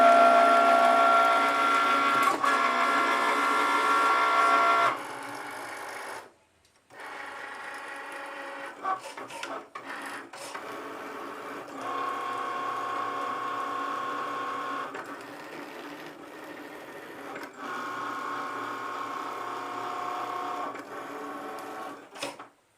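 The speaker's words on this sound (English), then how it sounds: "Now I'm just gonna load the mat inside. And click on the Cricut button." A Cricut cutting machine cuts a leather credit card wallet pattern, giving a steady mechanical whir and buzz with shifting pitch as the carriage moves. A brief pause comes near the start, then the running resumes in long sustained passes, close and alone.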